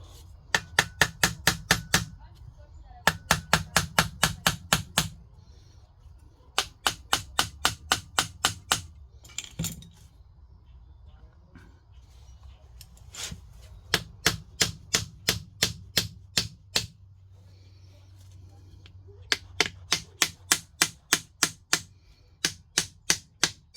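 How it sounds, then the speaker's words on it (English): A hammer pounds on metal parts of an old Honda Hondamatic 400 motorcycle, delivering rapid bursts of about eight to twelve sharp, ringing strikes, with short quiet pauses between the bursts. "you're hitting it with a hammer"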